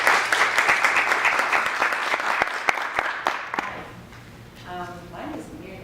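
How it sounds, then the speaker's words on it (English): Applause from a teacher panel audience at a peace and nature event, dense clapping for about three seconds that thins into scattered claps and fades to quiet, with some faint murmuring at the end. "So let's give Cindy a round of applause."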